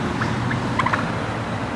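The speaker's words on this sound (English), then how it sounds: "Oh my gosh! It's a turkey!" A live turkey, apparently a show bird, gobbles nearby outdoors in Los Angeles, with a quick burst of warbling calls in the middle of a short clip over low background rumble.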